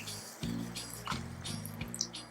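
Soft dripping and bubbling as a little water is added to mushrooms cooking in a pan, over a low steady simmering hum, with a few faint splashes and squishes close by.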